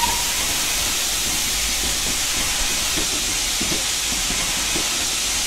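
Steam locomotive in the Railworks train simulator game starting off with brakes released: a steady, loud broadband hiss of steam fills the whole stretch, with faint low rumbling and soft rhythmic chuffs underneath, no voices.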